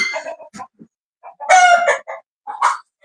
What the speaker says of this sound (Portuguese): Essas galinhas hoje estão uma benção, hein?